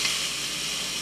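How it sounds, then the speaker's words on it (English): Pork chop seasoned with Himalayan sea salt and ground pepper sizzling in olive oil in a pan, a steady, dense frying hiss close up that holds without a break, with no voices. "That sizzling going on."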